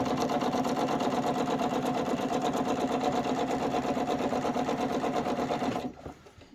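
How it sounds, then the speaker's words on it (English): A sewing machine stitches a quilt in a steady, fast, continuous rattling hum that runs close and loud, then stops abruptly near the end. "So just go ahead and sew to the side until your foot lines up with your stitch you already did, and then follow it back out."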